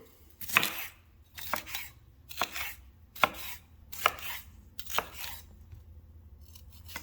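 A knife chops food on a cutting board in a slow, steady rhythm of about seven crisp, close strokes, with no one talking.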